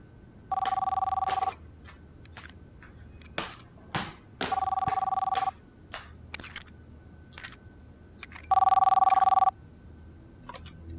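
Telephone ringback tone on an outgoing call, three separate ringing bursts about a second long each, with quiet room sounds and brief thumps in the gaps.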